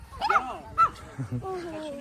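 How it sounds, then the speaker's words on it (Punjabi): A few high, yappy barks and whimpers from small dogs come in short bursts close by, mixed with brief voices, at a lakeside town in Sarnico, Italy. "ਇੱਕ ਦੂਏ ਨੂੰ ਦੇਖ ਦੇਖ ਕੇ ਭੌਂਕਣ ਲੱਗੇ ਵੇ"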